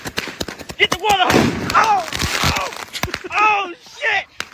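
Neighborhood fireworks display going off in a rapid series of sharp bangs and thumps, with whistling crackle streaks between, while several excited voices shout over the blasts.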